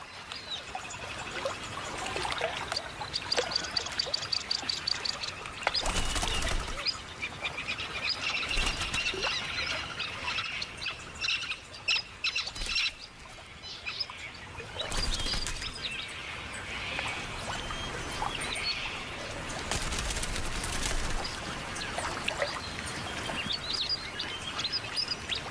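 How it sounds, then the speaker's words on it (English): Pigeons and bluebonnet parrots at perches in Australian nature, with scattered chirps and calls over a steady, busy outdoor background and a few louder bursts. "These perches are used by both cooing pigeons and bantering bluebonnets."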